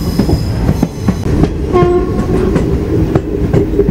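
A passenger train running from Kollam to Chennai Egmore rolls across the 13-arch bridge with loud steady wheel clatter and rumble, a sustained horn blast sounding midway, heard close from on board.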